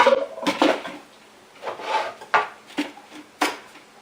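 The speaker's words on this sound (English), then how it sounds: "So I'm going to have to peel some garlic before I'm done pulsing my onions." A head of garlic being peeled by hand in a kitchen: irregular crackling, rubbing and tapping of papery skins in short bursts, close and moderately loud, with no talk.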